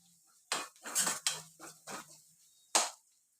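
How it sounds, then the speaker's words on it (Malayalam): A spoon knocks and scrapes against a pan while spices for dhal tadka are stirred, several short separate metallic clinks and scrapes, close and fairly quiet, with no one speaking. "ഇത്രയും ഇട്ടതിന് ശേഷം നല്ലപോലെ ഇളക്കി കൊടുക്കും."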